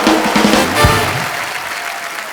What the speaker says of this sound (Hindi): जोरदार तालियों से अनुष्का का स्वागत